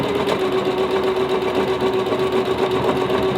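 A sewing machine stitches a quilt in a fast, steady mechanical whir with a constant rhythmic clatter, close and loud throughout with no pauses or voices.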